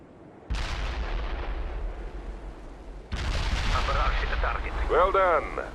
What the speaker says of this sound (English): I have incoming mortars!